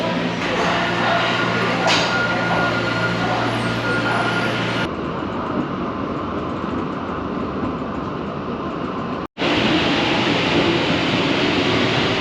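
A Tokyo Metro Marunouchi Line subway train rumbling loudly and continuously, with a sharp change in tone partway as it runs, then a brief dropout before the steady roar resumes.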